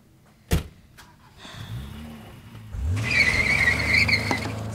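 A truck door thuds shut with a sharp bang, followed by the vehicle starting up and a steady engine rumble with whining, squealing tones building and holding close by.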